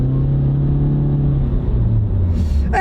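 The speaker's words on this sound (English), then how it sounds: "We'll give it a little gas." A Honda car with a continuously variable transmission accelerates after cornering, its engine rumbling loud and steady with a low drone that shifts in pitch, heard from inside the cabin.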